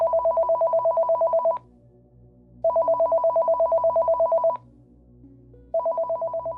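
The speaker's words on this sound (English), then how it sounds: "a phone rang in the distance." An old dial telephone rings in bursts of rapid bell trills separated by pauses, three rings in all, clear and steady with a low hum underneath and no voices.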